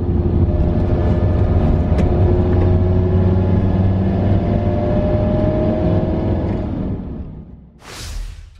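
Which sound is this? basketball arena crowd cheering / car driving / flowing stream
car driving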